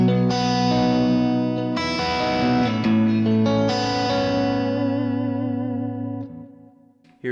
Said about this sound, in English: I'm running these pickups into an EQ, and then it's going into the amplifier section.